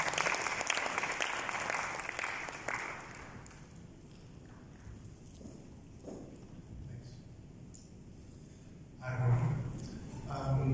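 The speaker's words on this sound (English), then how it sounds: "Let's give him a round of applause." Applause from the audience at an opening ceremony for a PIAfrica event in Mauritius, a brief burst of clapping that quickly fades into a quiet room with faint rustling and a low murmur.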